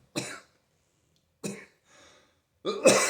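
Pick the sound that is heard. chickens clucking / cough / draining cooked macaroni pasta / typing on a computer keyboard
cough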